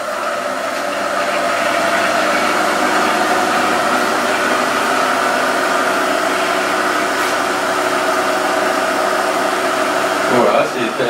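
A Cook Expert food processor runs at speed 10, mixing chocolate ganache without heating; a loud, steady high-pitched whirring motor drone holds for the whole stretch with no pauses.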